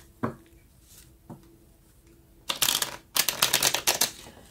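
Tarot cards drawn and handled: two faint taps, then two loud bursts of rapid crisp card clatter and slapping, close by, with no talking.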